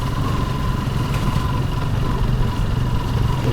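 A motorcycle engine running steadily on a group bike ride with friends in rainy weather, a continuous droning hum close by with no breaks, fairly loud and with no talk over it.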